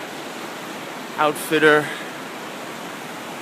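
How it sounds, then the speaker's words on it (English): Continuous rushing roar of river rapids at an outfitter stop along the Appalachian Trail, a steady broad wash of water with a voice briefly speaking over it. "We got some nice rapids here."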